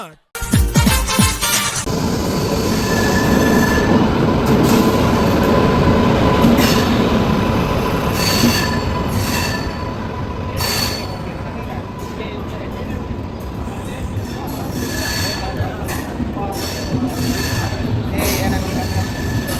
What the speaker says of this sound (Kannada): ಈ ಟ್ರೈನ್ ಬಂದೈತೆ